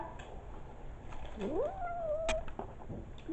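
A cat gives a single clear, rising-then-falling meow in a quiet room, fairly close and alone with no talk over it.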